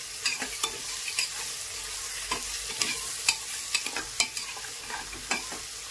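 Khichdi with curry leaves sizzles in a frying pan while a spoon stirs it, sending irregular scraping clicks over a constant hiss of frying.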